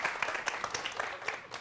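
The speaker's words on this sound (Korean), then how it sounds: "오늘의 주인공 두 분을 박수로 모시겠습니다" Studio audience applause welcoming two guests onto a Korean television talk show, a short burst of brisk clapping from a modest crowd.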